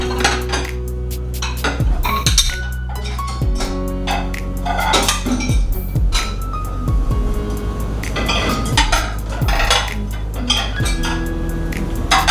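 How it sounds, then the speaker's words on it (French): Metal forks and spoons clink and rattle against each other and dishes in a dishwasher rack, a close, irregular run of sharp chinks and clatters with no talking. "La fourchette et puis les cuillères."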